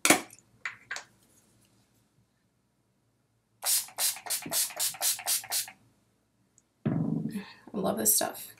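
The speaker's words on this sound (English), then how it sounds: "set everything with my Urban Decay Chill Makeup Setting Spray" Bursts of Urban Decay Chill makeup setting spray, about seven short rhythmic pumps in a row, close and fairly loud, with a quieter spritz or two before them and soft handling noises after.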